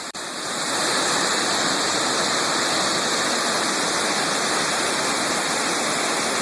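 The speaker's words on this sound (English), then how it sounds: "This is a dam letting go of pressure on purpose" Torrent of water thunders through four bypass tubes during a 96-hour high-flow dam release, a loud, steady, broadband roar that holds constant throughout with no voices.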